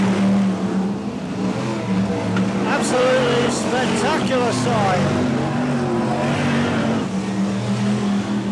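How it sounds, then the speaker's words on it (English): BriSCA Formula One stock cars race at King's Lynn during a 1994 Grand Final, their engines a loud, continuous roar with rising revs. A commentator talks over the racing throughout. "all the cars are up and running"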